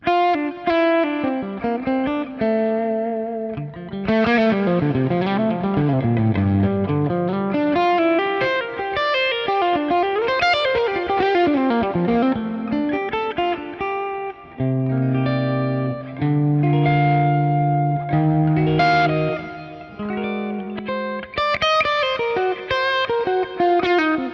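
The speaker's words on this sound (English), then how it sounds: "So this is a Pro Reverb on 10, basically, with the bright switch on." A loud electric guitar rings out through a Pro Reverb tube amp turned up to 10 with the bright switch on, bright and driven, playing sliding bends and sustained chords with reverb, no talking.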